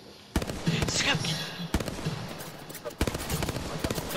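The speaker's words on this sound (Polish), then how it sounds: "Ktoś wybuchnął drzwi." A video-game explosion as a door is blown up, followed by sharp bursts and crackling blasts recurring in several loud hits amid game action, with voices talking over it.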